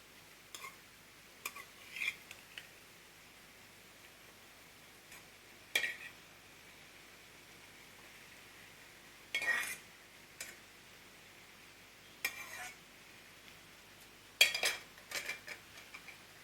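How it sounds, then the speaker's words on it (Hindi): Chicken Maggi noodles are stirred with masala in a pan, heard as sparse, brief clinks and scrapes of a utensil against metal separated by quiet pauses, with a faint tick-like rhythm throughout. "अभी हम मसाला के साथ अच्छा से मिक्स करेंगे मैगी को।"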